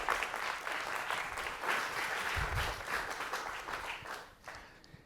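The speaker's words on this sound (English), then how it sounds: "So could you give a big round of applause, please, for Professor Stephen Freeland?" Audience applause for a professor at a legal talk, a sustained wash of many hands clapping, fairly faint and distant, fading slightly near the end.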